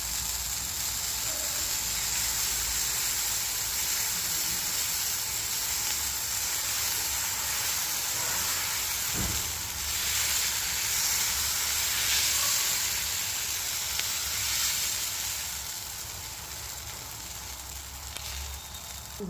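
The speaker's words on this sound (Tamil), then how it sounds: "இன்றைக்கி நம்ம அரிசி மாவு தோசை சுட போகிறோம்" Rice flour dosa batter fries on a hot pan with a steady, loud hiss and sizzle that holds without pause and eases off slightly near the end.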